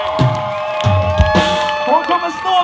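Cheering and whooping from the audience at a live rock concert, applause for a band member, in short loud bursts mixed with shouting voices.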